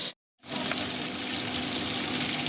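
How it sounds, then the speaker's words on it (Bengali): Eggs fry in a pan with a loud, even sizzle that starts after a brief moment of silence and carries on unbroken and close. No one speaks. "সবগুলো ডিম দিয়ে দিব ডিম দিয়ে একটু কষাই নেব"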